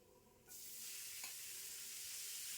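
Onion dropped into a hot pan for mushroom masala sets off a sudden soft hiss that settles into a steady, quiet sizzle, heard close with no talking.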